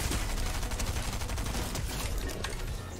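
Gunfire in the Fortnite shooter game, heard as a dense, continuous clatter of overlapping shots and impacts that stays loud and busy throughout, with no talk over it.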